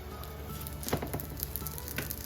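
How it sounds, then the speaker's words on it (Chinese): A golden layered flatbread pan-fries on its freshly flipped side, giving a soft, even, continuous sizzle with a few faint spits. "然后我们给它翻个面，"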